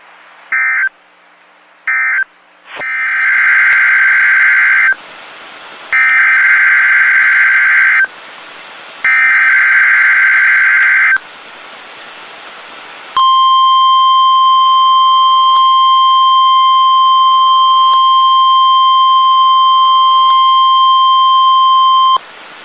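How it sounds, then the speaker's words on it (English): A NOAA Weather Radio public warning system test signal: a few short tone bursts, then three loud repeating two-tone alert blasts with brief gaps, followed by a long steady single-pitch attention tone, all loud and alone. "The preceding signal is a test of the NOAA Weather Radio's public warning system."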